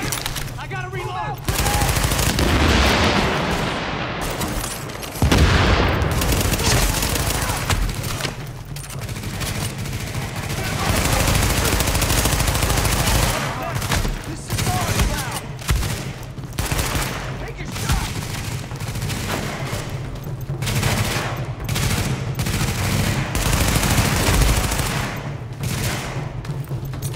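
Rapid gunfire bursts from Tom Clancy's The Division, loud and close, firing in repeated volleys with brief pauses throughout, occasional speech mixed in.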